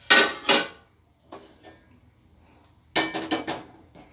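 An oil kadai is set down on a stove while chandrakala sweets are being made: two sharp metallic clanks, a pause with light scraping, then a quick cluster of clattering knocks.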